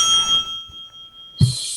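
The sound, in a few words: debate timer bell ringing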